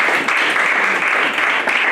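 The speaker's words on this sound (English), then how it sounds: "Oh, clap your hands to God for the word of the Lord." A church congregation at a homegroup service claps their hands in praise, a dense, steady wash of many hands that stays loud and unbroken throughout.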